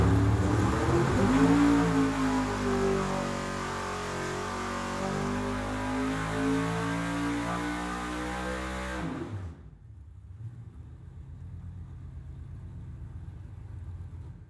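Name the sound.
naturally aspirated 1,200 HP engine revving after jet change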